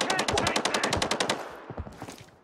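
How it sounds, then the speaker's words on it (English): Rapid automatic gunfire in the shooter game Arena Breakout, a fast regular burst of loud cracks over the first second and a half, then scattered fainter shots and echoes trailing off. "Who are they shooting at?"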